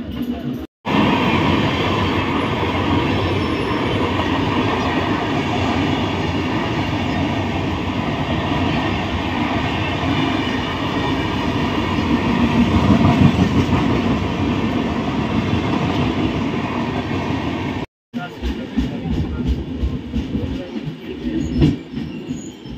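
Ujjain to Howrah passenger train moving along the rails, a steady loud rumble of wheels and carriages with faint squeals, broken by a brief dropout near the end before the rolling noise resumes.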